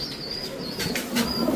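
Pigeons in a loft, Lahori, Sirazi and Giribaz breeds, give soft coos and brief wing flutters against a faint, steady background hum.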